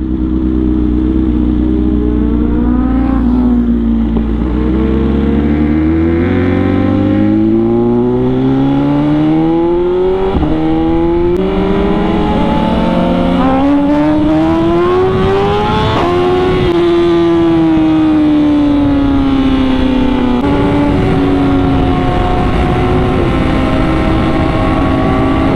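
A motorcycle rides along a road, its engine droning loud and close as it rises and falls through gear changes and revs, steady wind noise throughout and no talk.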